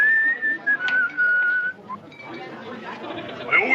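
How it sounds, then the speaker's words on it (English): A man whistles a clear, high tune in short phrases near a group of frontiersmen, while murmured talk and faint clinks sound in the background. "Couldn't he pick a better time to do his whistling?"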